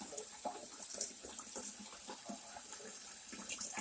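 Water from a tap runs into a large stock pot for a crawfish boil, a steady soft gush and splash that stays even and fairly quiet throughout, with no voices.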